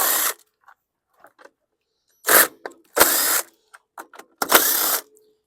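A hand ratchet with an 8mm socket working a fastener on a 2020 Hyper Tough lawn mower, heard in three distinct bursts of rapid clicking close up, separated by quiet gaps and small taps.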